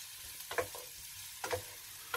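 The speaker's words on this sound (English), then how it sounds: "So the onions are almost getting there." Onions frying with garlic in olive oil, a soft continuous sizzle with a few sharp spatters and stirring ticks at intervals, quiet and close.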